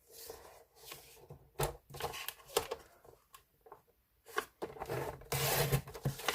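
Cardstock is cut on a paper trimmer, giving short scraping rasps and soft rubbing strokes with brief pauses between them, close and fairly quiet, with no speech.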